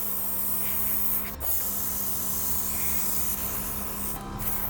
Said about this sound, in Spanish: Ya no tiene alcohol, ya solo pasa por el aire.